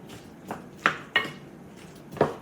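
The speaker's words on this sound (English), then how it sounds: "Give that a stir down." A spoon stirs a cabbage dish in a pot, giving four separate knocks and scrapes against the pot, spaced irregularly and heard up close with no talking.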